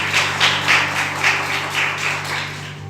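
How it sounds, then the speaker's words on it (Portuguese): A church congregation claps together in a steady rhythm, about three to four claps per second, sustained and fairly close, with a low electrical hum underneath. "Vamos aplaudir ao Senhor Jesus Cristo"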